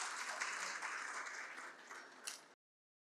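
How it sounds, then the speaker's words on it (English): Delegates at the 8th Pakistan Pharma Summit applaud the arrival of a keynote professor on stage, a dense burst of crowd clapping that gradually thins and then cuts off abruptly. "Can we have a round of applause for him, please?"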